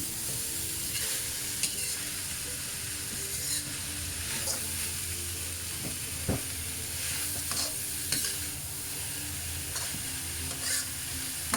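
Mixed vegetables with fermented black beans stir-frying in a small home wok, a continuous crackling sizzle punctuated by repeated spatula scrapes and taps against the metal, close and alone.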